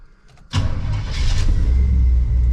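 Old Chevrolet squarebody ramp truck engine cranking and catching after a brief quiet moment, then settling into a steady, loud idle rumble close by.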